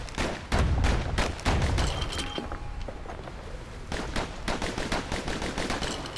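Twin slinger pistols fire in the action game Bastion, with rapid loud shots in quick bursts, a pause, then another steady string of close gunfire.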